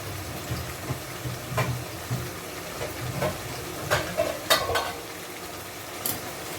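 Chicken simmers in masala in a pot, bubbling softly, with occasional scrapes and clinks of a spoon stirring, fairly close and low in volume.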